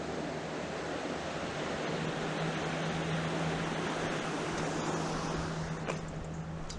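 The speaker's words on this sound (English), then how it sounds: "The river is absolutely flying this morning." Fast-flowing River Conwy in North Wales in morning flood, a dense, constant rushing roar of water, loud and unbroken, with some wind buffeting.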